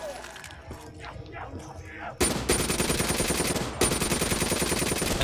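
A gun in Black Ops 3 custom zombies fires in a sustained rapid burst, loud and close, after a quieter stretch of game noises and short cries, with a brief gap before firing continues.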